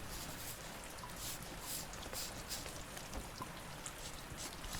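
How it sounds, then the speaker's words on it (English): Steady rain falls in a soft, continuous hiss with scattered drops pattering throughout, quiet and evenly spread with no voices. "Gee, that rain is relentless today."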